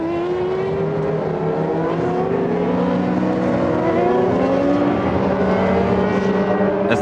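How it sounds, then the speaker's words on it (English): A Benetton Formula One car screams off the line at the start of a formation lap, its engine rising through the revs in a loud, sustained, high-pitched whine with other cars audible around it. "Schumacher's Benetton screams off the line at the start of the formation lap"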